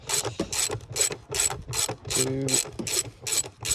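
A ratchet wrench undoing T25 Torx screws on the air filter housing of a Ford Fusion 1.4 TDCi, close rapid clicking bursts repeating in quick strokes, with a brief spoken count in between.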